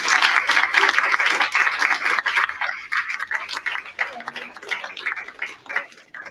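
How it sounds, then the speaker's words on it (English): Audience applause at an annual League of Women Voters meeting, brisk close clapping from a room of people that swells and then tapers over several seconds, with a few voices mixed in. "So give her a big round of applause."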